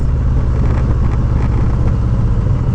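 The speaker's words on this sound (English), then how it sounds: "Oh my god, the power that this bike has." A stage 4 Harley-Davidson Street Glide anniversary edition motorcycle engine roars continuously under way, a loud, close, steady low rumble throughout.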